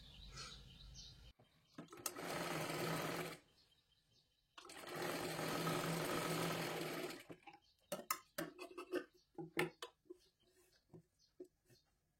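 A sewing machine runs in two loud whirring bursts, each a couple of seconds long, as it stitches a strip on a princess blouse, followed by softer handling clicks and rustles while a voice speaks quietly.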